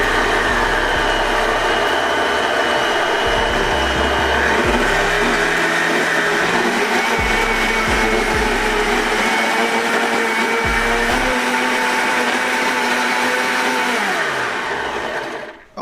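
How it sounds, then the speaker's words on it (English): A blender whirs loud and steady, blending soursop and ginger, its motor pitch shifting as the thick mixture churns, then winding down at the end. "So let's blend this up. So we go ahead and blend this."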